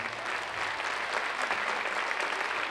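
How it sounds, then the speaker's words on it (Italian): An audience at a show gives steady, full applause to young rhythmic gymnasts, with many hands clapping continuously at an even level throughout. "noi li salutiamo con un grosso applauso"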